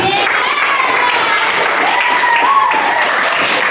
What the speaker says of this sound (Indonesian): berikan dulu tepuk tangan